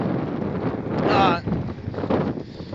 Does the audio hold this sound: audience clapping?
no